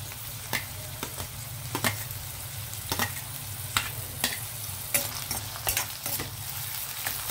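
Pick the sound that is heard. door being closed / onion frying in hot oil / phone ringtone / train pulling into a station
onion frying in hot oil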